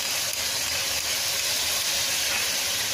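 Chicken fries in a pan with garlic ginger paste, a loud, steady, continuous sizzle and hiss with no break and no talking.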